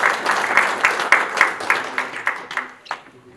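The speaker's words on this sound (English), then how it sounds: "A round of applause for Dr. Angus as he comes to the stage" A conference forum audience claps as a speaker walks to the stage, a modest, rhythmic applause with fairly regular pulses that gradually fades away, with a faint low tone underneath near the end.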